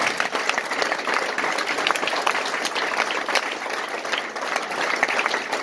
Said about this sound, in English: And I think they deserve a lot of applause.